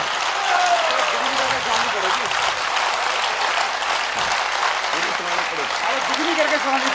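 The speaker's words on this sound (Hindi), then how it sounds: "तू इतनी तालियां बज गई" A large audience at a Hindi poetry recital applauds continuously, the dense clapping running under a voice speaking and calling out over it.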